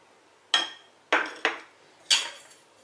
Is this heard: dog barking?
no